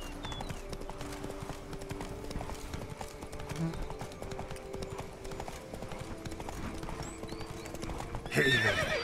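Horse hooves clip-clop at a steady gallop in The Witcher 3, with a whinnying neigh breaking out near the end over a low game soundtrack.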